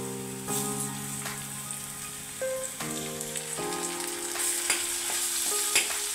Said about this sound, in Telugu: ఇప్పుడు మనం మిక్సీ వేసుకున్న ఈ చికెన్ అంతా ఇందులో వేసుకుందాం.